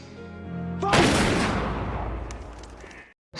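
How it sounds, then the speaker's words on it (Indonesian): A single loud gunshot rings out in a film scene, cutting through quiet tonal music and trailing off in a long, rumbling reverberant decay before a brief silence. "sampai akhirnya Damian ditembak pas di kepala"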